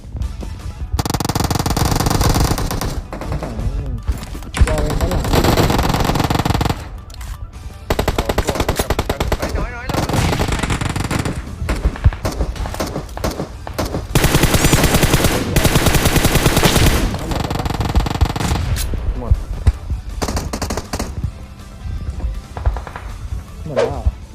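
Sustained automatic gunfire in PUBG Mobile, loud rapid bursts of rifle shots rattling almost continuously with short pauses, close and dominant.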